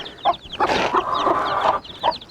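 A mother hen clucks repeatedly in short, loud bursts close by, calling her day-old Sussex chicks, whose faint high peeps chirp in the background.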